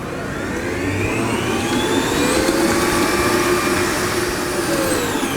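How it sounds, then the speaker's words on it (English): An electric stand mixer beats 150 grams of soft unsalted butter for cupcakes, a steady, loud motorized whir with a slightly rising pitch, running continuously with no talk. "I've already got 150 grams of soft unsalted butter in my mixer, and I'm going to beat that for about 5 minutes"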